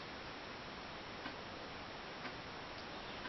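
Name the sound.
clock ticking in the background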